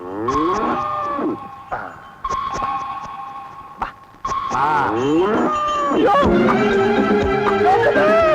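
A cow lowing in a comedy scene, several loud drawn-out moos with rising and falling pitch in quick succession, some overlapping, with people shouting and talking around it.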